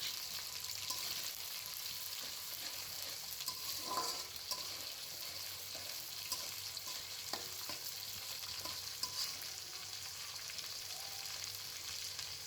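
Crushed ginger and whole garlic cloves fry in hot oil for a vegetable khichuri, a faint, even sizzle with a couple of brief stirring clicks near the middle and no speech.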